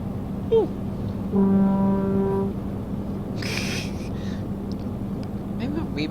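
Single long, deep truck air-horn blast of about a second sounds in Euro Truck Simulator over steady engine and road drone, with faint talk nearby.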